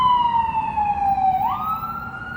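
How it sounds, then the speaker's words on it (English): An ambulance siren sweeps past on a city street near DuPont Circle, a single loud wailing tone gliding down and then jumping back up, close and clear over low traffic rumble. "it'd be kind of crazy around here with the ambulances or whatever"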